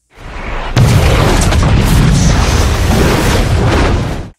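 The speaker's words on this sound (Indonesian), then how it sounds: "Guzman, Lily, dan Scott mengarah ke rooftop, walaupun Guzman harus digigit dengan zombie dan akhirnya meledakkan dirinya sendiri." A huge explosion from the zombie film Army of the Dead (2021) erupts as a sudden, loud, deep boom that rumbles on for several seconds before fading.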